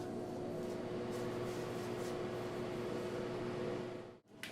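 A microwave oven heating a Scotcheroos sugar mixture hums steadily at low volume, an even mechanical drone that cuts off abruptly just before the end.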